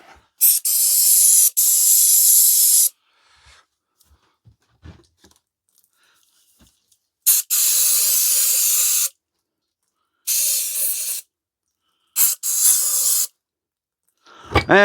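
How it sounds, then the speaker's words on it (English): Brake cleaner is sprayed in strong, close hissing blasts onto a cast iron cylinder from a Stuart Turner generator, several bursts of varying length separated by quiet gaps with faint clinks of handling. "So we've brake cleaned all up that cylinder."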